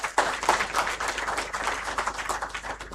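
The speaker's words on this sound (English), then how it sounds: "Please, can I have a round of applause for Mr. Dudeja, Ekta Book Company." Audience clapping at a moot court prize distribution ceremony, a steady burst of many hands applauding continuously for three seconds, moderately loud and close.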